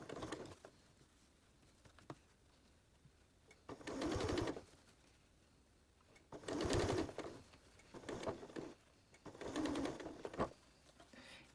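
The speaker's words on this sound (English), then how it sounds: "you're going to stitch right in that first fold" Sewing machine stitching bias tape onto a fabric hot pot lid holder, three separate runs of steady whirring stitches with quiet pauses between them, close up.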